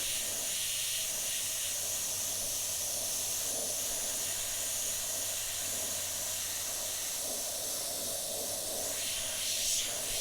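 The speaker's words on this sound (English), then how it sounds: "I can run some of that overspray into the fleshy areas as well." Airbrush spraying green paint in overspray passes while tinting the skin tones of a zombie figure, a steady close airy hiss running throughout with slight swells near the end.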